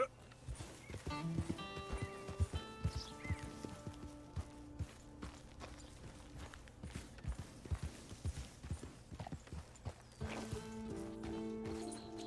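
Steady hoof clip-clops from a walking horse in the video game Red Dead Redemption 2, with an occasional whinny, over a sustained musical background; no talking.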